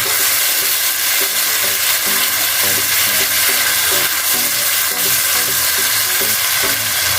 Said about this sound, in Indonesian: lalu kita masukkan bumbu yang telah kita haluskan tadi. Kita tumis sampai harum ya.